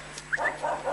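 A dog that guards a house and bakery near Belgrade gives a couple of quick, close, high yipping barks.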